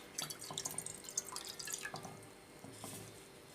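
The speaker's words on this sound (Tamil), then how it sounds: "இப்போ 2 கிளாஸ் தண்ணி ஊற்றலாம்." Two glasses of water are poured into a pot for making spiced kozhukattai, a faint, close splashing and trickling that lasts a few seconds with no talk.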